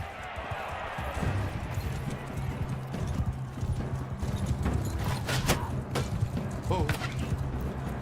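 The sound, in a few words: horse galloping in the video game Bannerlord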